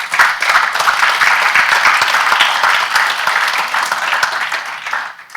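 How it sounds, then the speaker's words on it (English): An audience applauds at a CAPRI policy forum, loud and close, with dense sustained clapping that tapers slightly near the end. "So a round of applause for CAPRI,"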